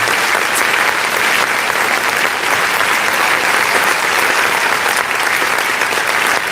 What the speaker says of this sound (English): Alright, let's go ahead and clap.